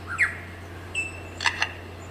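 A lyrebird in an Australian forest mimics a camera shutter, giving a few crisp mechanical clicks and chirps spread over two seconds, the last two close together, with a steady low hum underneath.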